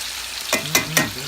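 Plantain slices fry in a skillet with a steady sizzle, broken by three quick scraping stirs close by.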